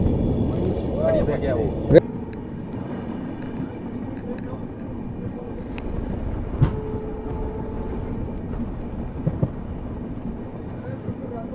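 A passenger train runs through snowy Jammu and Kashmir, its steady low rumble and rattling carriages filling the scene, broken by a few sharp knocks and clanks from the rails.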